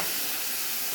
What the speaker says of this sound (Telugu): కడిగి పెట్టుకున్న కీమా వేసేసుకుందాం.